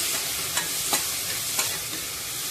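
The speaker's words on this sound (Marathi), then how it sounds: "आता आपण त्यामध्ये ही साफ केलेली कोळंबी घालून घेऊया" Cleaned shrimp sizzle steadily in hot tempering oil in a pan for a shrimp curry, with a few sharp stirring scrapes cutting through the constant frying hiss, close and alone.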